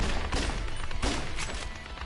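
Video game gunfire crackles in dense, continuous bursts with a steady roar and repeated sharp shot transients, loud and close, with no voices over it.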